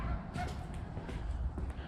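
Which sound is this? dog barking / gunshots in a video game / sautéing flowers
dog barking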